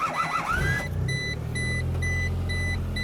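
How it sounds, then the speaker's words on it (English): A 2000 Chevy Geo Metro engine cranks briefly and then settles into a steady low idle rumble, with a repeating electronic chime beeping at even intervals over it. "Alright, so now we will start the car."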